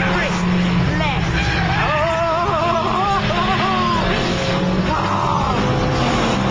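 Honda Civic Mugen Type R on a track through the S's, engine note falling under braking with heel-and-toe blips and downshift into third, then pulling through the corner, heard inside the car under steady talk.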